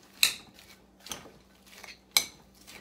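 A spoon clinks and scrapes against a bowl while creamy coleslaw with a little mustard is stirred, three sharp metallic taps spaced about a second apart with soft scraping between, close and fairly quiet.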